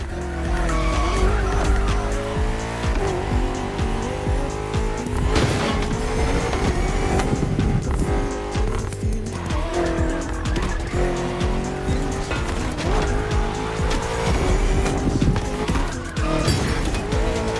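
BMW M CS sports cars race in The Crew Motorfest driving game, with engines roaring loudly and constantly alongside repeated tire squeals and skidding throughout.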